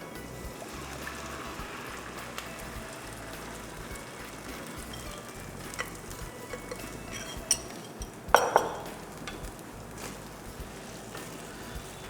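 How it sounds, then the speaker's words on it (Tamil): A spoon stirs coarsely ground rice flour batter in a pan for uppu kozhukkattai, producing soft, continuous scraping and swishing with occasional light clinks of metal against the pan, close and fairly quiet throughout. "இதை கொஞ்சம் ஈவனாக மிக்ஸ் பண்ணிகிட்டே இருங்க."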